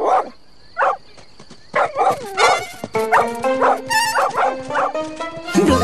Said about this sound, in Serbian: Blesavi pas!